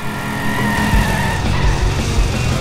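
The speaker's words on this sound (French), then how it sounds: "C'est le moment de faire crisser les pneus." Car tires screech in the video game Simpsons Hit and Run, a loud, sustained skidding squeal layered over a revving engine for the whole stretch.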